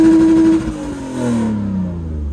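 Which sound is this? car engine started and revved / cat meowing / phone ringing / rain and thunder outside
car engine started and revved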